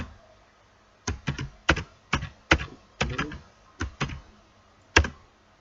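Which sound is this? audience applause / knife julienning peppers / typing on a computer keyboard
typing on a computer keyboard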